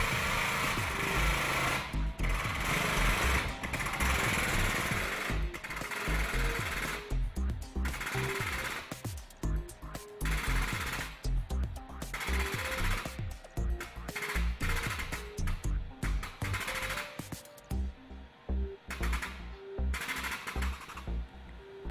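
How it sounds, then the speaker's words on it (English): A hydraulic pump runs during rail tensioning and repair work, giving a steady, loud mechanical churn with a rapid, pulsing cadence throughout. "listening to the cadence of the hydraulic pump"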